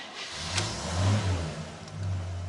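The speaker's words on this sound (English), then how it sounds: "They designed the ignition switch so that you can start the car with no key" The engine of a classic 1950s car, started with no key in the ignition, idles and revs with a low rumbling drone that swells and eases, heard up close.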